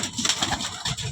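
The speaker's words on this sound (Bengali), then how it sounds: "কেরালা পায়রা।" Kerala pigeons coo softly at close range in a short burst of low, rolling calls, with no voices.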